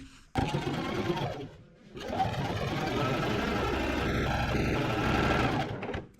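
A sewing machine runs steadily, stitching a side seam on a Terrazzo dress, with a short pause near the start before the motor whirs continuously at close range, a faint voice underneath.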